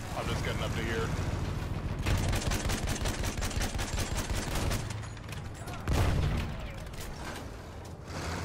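Rapid gunfire in the first-person war game Landship, dense bursts of automatic shots and scattered heavier blasts over constant mechanical rumble, loud and close, with talk partly underneath.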